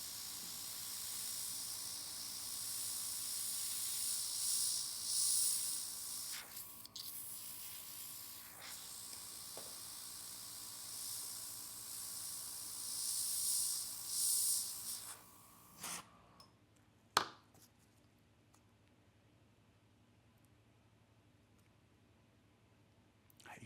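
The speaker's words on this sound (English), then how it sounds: "Again, I'm spraying on the stencil." A steady airbrush hiss sprays nail paint through a stencil in bursts for about fifteen seconds, then stops, followed by a few faint clicks and quiet.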